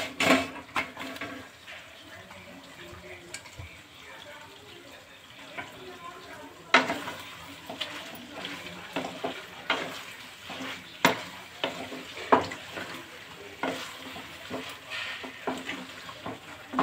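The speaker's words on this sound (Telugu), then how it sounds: "ఇప్పుడు వేయించుకున్న ఉల్లిపాయలు వేసుకోవాలి" Fried onions go into a chicken curry simmering in a pan and get stirred, giving scraping spoon strokes and clinks over a low sizzle, with occasional sharper knocks against the pan throughout.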